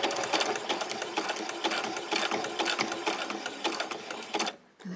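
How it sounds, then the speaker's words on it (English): Domestic sewing machine back stitching the side seam of a swimsuit near a frill, a loud rapid mechanical chatter that runs steadily and stops abruptly just before the end. "And then just take your time and then do some back stitches."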